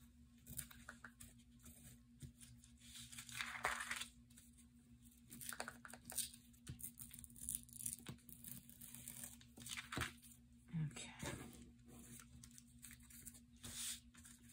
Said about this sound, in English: I'm going to tear some of this back a little bit